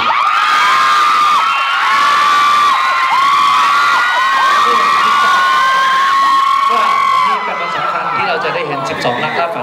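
Fans scream and cheer loudly for contestant Kacha at the week 11 show of the Thai singing competition AF10: sustained high-pitched shrieks and crowd whoops fill the space without a break, dipping slightly near the end.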